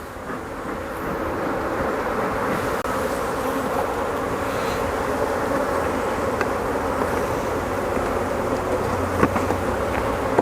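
Agitated honeybees around an open hive buzz loudly and continuously all around, a dense droning swarm with a few faint clicks and knocks near the end.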